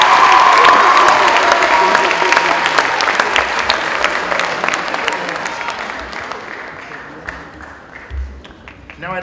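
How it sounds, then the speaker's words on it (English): A ceremony audience applauds the Penn Ridge Choir with loud, dense clapping and a few cheers that gradually fade out toward the end. "How about another round of applause for the Penn Ridge Choir?"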